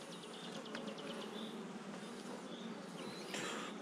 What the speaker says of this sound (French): Il y a trop d'abeilles sur le cadre.